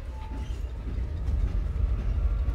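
A moving train from the Project: Playtime video game trailer rumbles steadily and low, a dense rolling drone that swells slightly and carries no voices.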